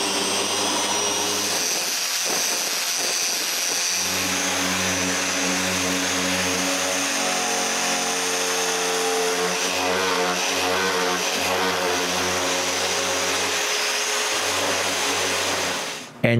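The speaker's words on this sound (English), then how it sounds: "I can give the final sanding on all the pieces" Power sander doing final sanding on wooden pieces of a sewing box, a continuous loud whine that holds steady and close for the whole stretch, ending abruptly.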